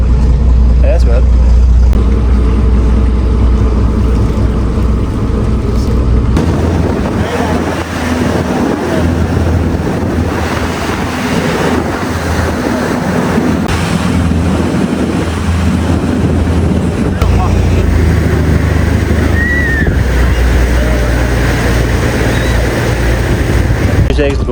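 A ferry engine rumbles loudly and continuously while passengers board for Rathlin Island, with heavy wind buffeting and shifting mechanical clatter throughout.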